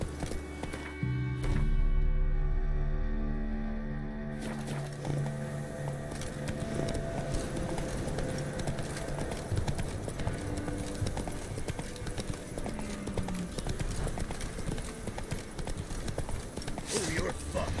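Horse hooves gallop in The Witcher 3, a fast, steady clip-clop that runs close and loud through most of the passage, mixed with game sounds and a spoken voice.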